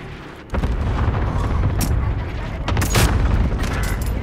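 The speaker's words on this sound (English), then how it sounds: "Airstrike." Airstrike explosions in a squad-based video game firefight, a sudden loud blast followed by sustained rumbling booms and heavy gunfire, with a second strong burst of explosions near the end.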